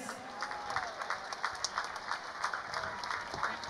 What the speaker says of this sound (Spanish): Un fuerte aplauso a José Ramírez.